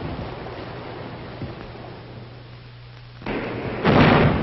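Wartime film scene of gunfire at a river crossing as engineers build a bridge: a low, muffled hum, then two sudden heavy blasts near the end, with a dull, band-limited sound.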